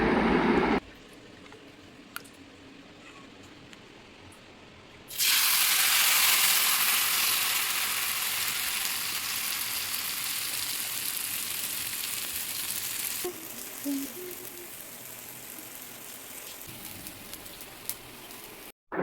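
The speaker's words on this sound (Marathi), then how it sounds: "हे पॅनमधील पसरवलेले तेल गरम झाल्यानंतरच आपल्याला हे पातळ मिश्रण पॅनमध्ये घालायचे आहे" Thin ragi and rice flour batter hits a hot oiled pan and bursts into loud, bright, steady sizzling. The sizzle holds strongly for several seconds, then settles lower with occasional light scrapes.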